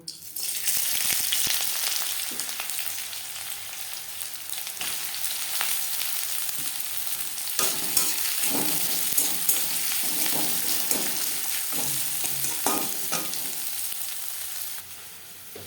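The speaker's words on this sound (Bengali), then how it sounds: "এই তেলে দিয়ে দেব রসুন যেটা আমি থেতে করে রেখেছিলাম তার আগে পেঁয়াজ ভেজে নেব" Onions frying in hot oil in a pan, a continuous bright sizzle lasting throughout, close up, with occasional stirring scrapes and crackles growing busier toward the end.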